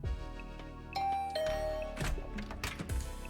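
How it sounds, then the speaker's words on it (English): A doorbell chimes in a video game, a clear ding-dong tone sounding twice amid soft game music and scattered effects, fairly close and moderately loud. "I'll ring the bell just in case."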